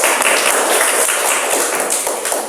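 A classroom of students claps for a presenting group, dense, close, continuous applause from many hands that stays loud throughout.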